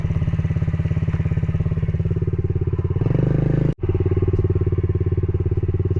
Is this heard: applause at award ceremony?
no